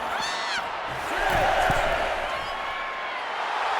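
An arena crowd at a wrestling match cheers and roars in a sustained wave that swells in the middle, while a commentator talks over the noise.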